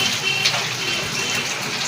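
Cut eggplant rinsed under running tap water, a brief, moderately loud gushing splash close by, alone.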